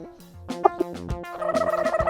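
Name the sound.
rooster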